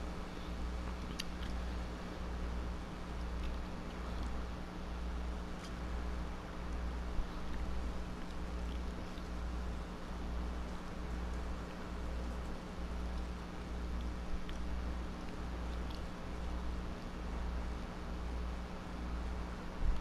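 A farm tractor idles steadily in the American Life farming game, a low droning engine hum with a soft regular pulse running evenly throughout, alone and without talk.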